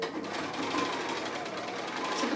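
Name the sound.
sewing machine sewing small quilt block pieces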